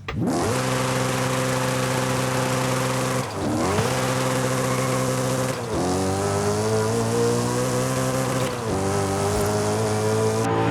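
A BMW M3 GTR in Forza Horizon 5 at full throttle, its engine wailing loud and steady, with upshifts at short intervals that briefly dip the tone before it climbs again.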